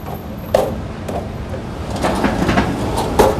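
An aluminium kitchen cabinet drawer slides along its rail, giving a few short rolling, clattering bursts that come and go over a steady background hum, fairly close and moderately loud.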